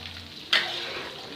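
Cooking oil hisses and sizzles steadily after a sudden onset as chicken or spices are dropped in, a close, continuous frying sound with no talk over it.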